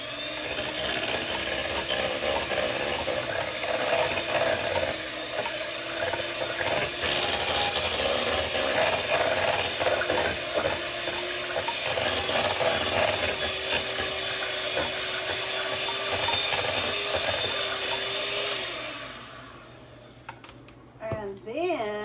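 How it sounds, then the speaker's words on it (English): An electric hand mixer whips banana split pudding mix in a bowl, a steady whirring motor hum with scraping beaters running continuously for nearly twenty seconds, then stopping, while a person talks over it. "I think they want us to use the hand mixer again"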